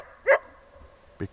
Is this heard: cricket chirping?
no